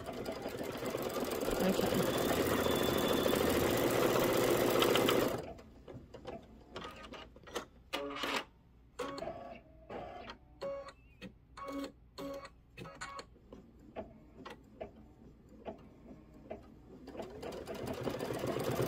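An embroidery machine stitches out a hot cocoa design, running as a loud, steady mechanical whir before dropping to intermittent rhythmic clicks and taps, with a brief spoken word near the start.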